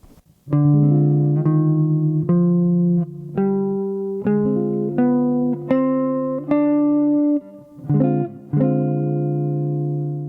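An electric instrument plays the Locrian natural six scale in a slow sequence of single sustained notes, clean and close, each note ringing before the next.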